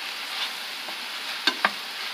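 Pork and carrots sizzle steadily in a hot pan while a utensil scrapes and clacks twice against it as they are stirred.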